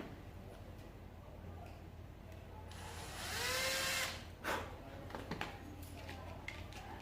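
A power drill drives a screw straight into MDF without a pilot hole while a door frame is assembled, giving a rising whir of roughly a second that stands out above a quiet room with background noise.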